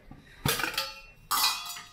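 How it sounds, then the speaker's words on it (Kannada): A metal pan is set down on a home kitchen stove while tea brews nearby, giving two sharp clinking clatters about a second apart, close and fairly loud, with no talk over them. "ಬಾಣಲೆ ಇಟ್ಟಿದ್ದಾಳೆ."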